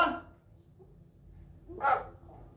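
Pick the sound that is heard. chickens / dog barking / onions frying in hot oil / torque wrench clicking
dog barking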